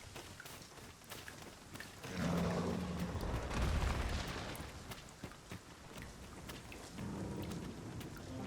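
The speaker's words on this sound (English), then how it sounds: "Must we do battle amidst this dreadful downpour?" Heavy rain pours steadily in Dragon's Dogma 2, with deep thunder rolling and booming in two swells, loudest in the middle, over a constant wash of downpour.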